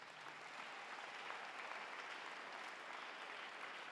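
A church congregation applauding, a steady, dense wash of clapping held at an even level throughout, distant and faint with no distinct voices.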